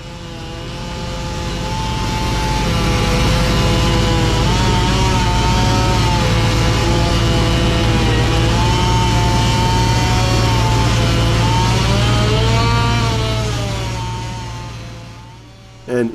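A dull steel chainsaw cuts into a huge oak log at a sawmill, its engine droning steadily and loudly for a long stretch before easing off near the end.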